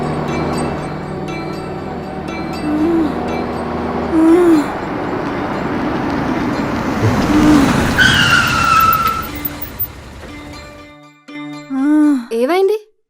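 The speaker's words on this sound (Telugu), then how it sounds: "ఏదో కారు వస్తుంది, కొద్దిగా ఓర్చుకోండి." A car approaches on a road with a rising engine rush, then its tyres squeal sharply as it brakes and skids to a stop, followed by short whooshing film-style effects near the end.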